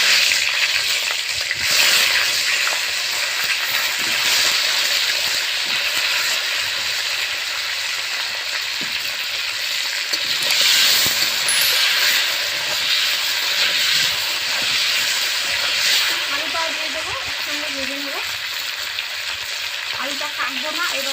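Cauliflower pieces fry loudly in oil seasoned with turmeric and salt, a strong close sizzle and steamy hiss with stirring scrapes, steady throughout and without talk.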